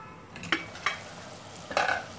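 Tomatoes stirred in a pan of lauki aloo sabzi, giving a few soft scraping, sizzling strokes at close range, spread over about two seconds with quiet gaps between them.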